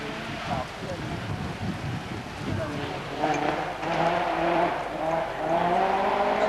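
An Opel Manta 400 rally car at a 1988 Race of Champions event drives past with a rising, revving engine note and gear changes, heard under a commentator's steady talk.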